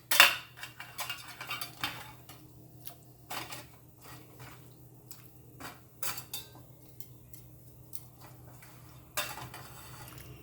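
Butter chicken marinade being mixed in a bowl, with clinking and tapping of a spoon against the bowl in irregular strokes, close and fairly quiet.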